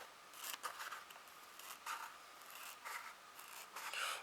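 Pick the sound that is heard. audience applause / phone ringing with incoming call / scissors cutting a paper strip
scissors cutting a paper strip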